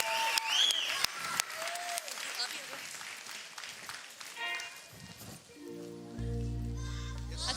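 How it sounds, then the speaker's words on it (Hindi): Applause from a TV show studio audience for the captains coming on stage, dense clapping that fades into quieter sound as music starts near the end, with a voice heard over it. "जोरदार तालियां हो जाए हमारे कैप्टन्स के लिए"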